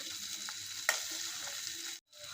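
Masala frying in oil in a pan, a steady bright sizzle running throughout with one sharp spatula tap and a brief break near the end.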